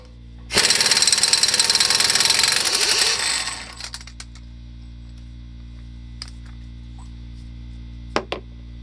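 An air impact wrench spins the front axle nut off a Jeep Wrangler, a loud, rapid hammering rattle that lasts about three seconds before cutting off, followed by faint metallic clicks.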